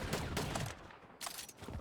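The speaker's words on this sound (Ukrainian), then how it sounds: "то реально хтось стріляє" Gunfire in the Fortnite Battle Royale video game, several rapid bursts of shots in quick succession with short gaps between them, fairly close.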